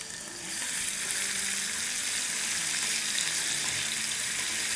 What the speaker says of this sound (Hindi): तेल हमारा गर्म हो गया है तो इसमें डाल देते हैं 1 टीस्पून सफ़ेद ज़ीरा और 1 टेबलस्पून कुटा हुआ लहसुन।